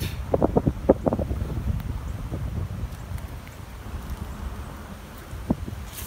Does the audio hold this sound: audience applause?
no